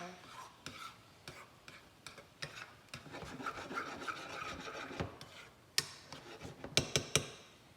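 Food is cut up in a pan, giving faint, rough scraping strokes and light taps, with a few sharper clicks near the end.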